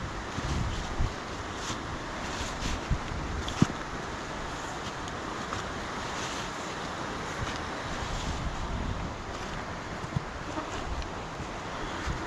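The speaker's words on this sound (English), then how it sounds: "There's a waterfall coming down from the top left there." A fast-running waterfall beside a wooden bridge makes a steady broadband rush outdoors, mixed with gusts of wind buffeting the microphone and a few faint knocks.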